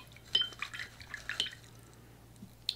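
Faint, sparse water drips and soft clinks come from watercolour paint being mixed with extra water on a palette, a few small taps and splashes scattered over a quiet room.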